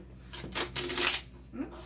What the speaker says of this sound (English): I will shuffle approximately 5 times